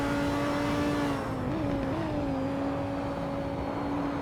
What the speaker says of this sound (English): Jesse Olsen against the rev limiter